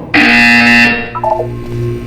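A buzzer in Portal 2 sounds as one loud, steady electronic tone lasting most of a second. A softer trail of electronic tones follows it.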